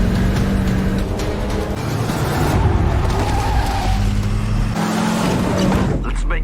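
A film car chase on an empty road with tires skidding and screeching over loud, continuous engine roar, ending in a crash, dense and close throughout.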